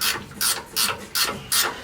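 A ratchet wrench loosens bolts on a vehicle in a fabrication shop, giving five quick, close, evenly spaced ratcheting bursts with short gaps between them and no talk.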